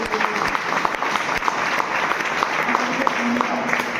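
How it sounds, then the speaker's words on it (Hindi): Loud, steady applause from the crowd at a Vestige business opportunity program in Siwan, continuous clapping throughout with a faint voice briefly under it. "एक बार चाहूंगा इनके लिए जोरदार तालियां"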